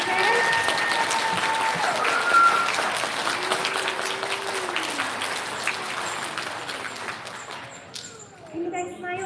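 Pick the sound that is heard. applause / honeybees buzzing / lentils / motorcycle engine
applause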